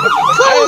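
Ambulance siren wailing loud and close, a rising and falling tone that may be a voice imitating it in a comedy skit.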